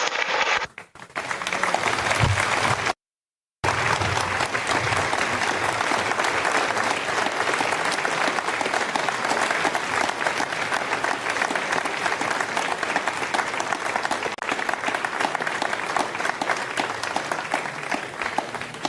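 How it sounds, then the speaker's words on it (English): Sustained applause from the people in the Ariane 5 launch control room in Jupiter, cheering a satellite separation; a steady, dense wash of clapping that cuts out briefly near the start, then carries on loud and unbroken. "you heard the applause from the people here in Jupiter as Ariane 5 has delivered her second passenger"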